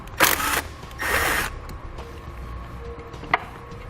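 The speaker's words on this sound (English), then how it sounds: "We'll then use a 13mm socket to remove the bolt on our negative terminal." A 13mm socket loosens the bolt on a battery's negative terminal as part of a flat tow brake install on an air-brake RV, giving two short ratcheting bursts and a small metallic click near the end, close and clear.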